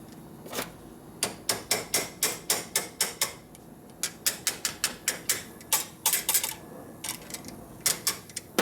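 A hammer knocks out a high spot on steel motorcycle tubing for a 1957 Harley panhead drag bike, with sharp metallic strikes coming in quick rhythmic bursts of several blows, loud and close, and no talk.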